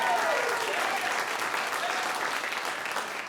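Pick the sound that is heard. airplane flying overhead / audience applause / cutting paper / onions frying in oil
audience applause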